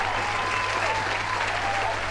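An audience gives a standing ovation at a Glastonbury festival stage, loud dense clapping filling the space evenly throughout, with no voices on top.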